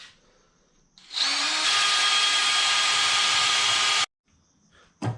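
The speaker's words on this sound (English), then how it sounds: "get your drill, just drill straight through the top" A power drill whines loudly at a steady high pitch for about three seconds while drilling through the top of a sealed compressor shell, then stops abruptly; a brief burst restarts at the end.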